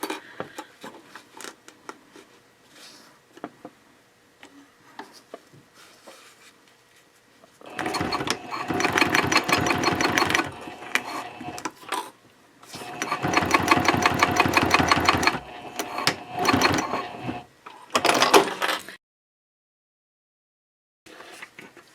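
A sewing machine bastes Cordura fabric for a trifold wallet at a 3.0 stitch length, running in two long rapid bursts with a shorter stop-start run for the back stitch, near and loud, between quiet handling clicks.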